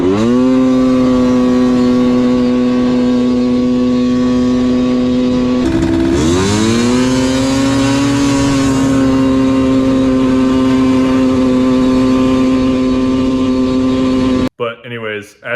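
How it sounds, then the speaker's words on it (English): A ported Polaris 400 engine held at full throttle gives a loud, continuous buzzing drone that dips briefly and then climbs back to a sustained high-revving pitch before cutting off at the end. "I want to show you a little before and after of a full throttle pull"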